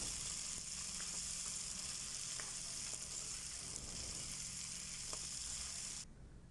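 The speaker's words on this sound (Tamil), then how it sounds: "சுண்டைக்காய் சேர்த்துட்டு நல்லா மிக்ஸ் பண்ணி கொடுக்கலாம்." Crushed turkey berries are stirred into shallots frying in oil for a kuzhambu, giving a strong, constant hiss and sizzle close up with faint scraping ticks, ending abruptly, no voices.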